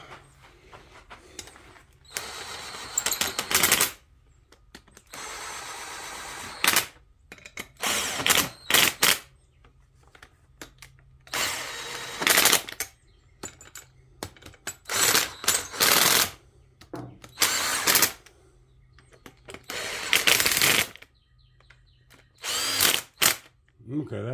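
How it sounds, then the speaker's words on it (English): A small impact driver runs bolts into the top end of a Yamaha XL800/GP800 Waverunner engine, firing in repeated short, loud, close bursts of rattling hammering separated by brief pauses. "And then we'll run them in with my little impact like I've been doing."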